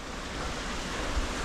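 A waterfall in a valley at night: a steady, broad rushing roar of falling water, continuous and even with no other sounds.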